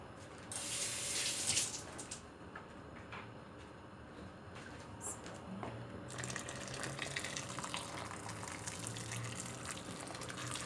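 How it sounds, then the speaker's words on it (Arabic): Boiling water poured into a pot of stuffed chicken, a continuous gushing, splashing pour of liquid lasting several seconds, louder at first and then settling into a steady flow. "طبعا انا عندي ميه مغليه هزودها."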